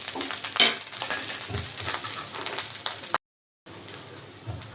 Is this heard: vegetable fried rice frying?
yes